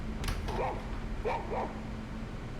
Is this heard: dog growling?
yes